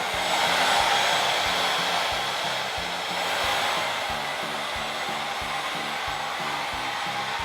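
A hair dryer blows in a kitchen with a steady loud whooshing roar, a faint rhythmic low pulsing running beneath it the whole time.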